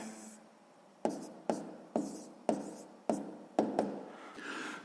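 Someone writes out a sixth-grade maths solution by hand, with about seven distinct, close, sharp pen strokes tapping and scratching on paper in an irregular rhythm, and no speech.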